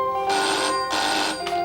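A telephone ringtone ringing in an indoor scene, two loud electronic ring bursts with steady tonal pitches, followed by the start of a third, close and clear without speech.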